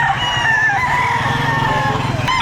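A chicken crows loudly and nearby at a poultry market in Batangas, the call stretching across the whole stretch with clucking beneath and no one speaking.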